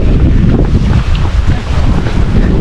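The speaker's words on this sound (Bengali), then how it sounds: "ঠান্ডা বাতাস কি ঠান্ডা বাতাস ভাই অনেক" Strong, cold wind roars and buffets the microphone in loud, continuous gusts at Mirinja Valley in Lama, Bandarban, with no talking.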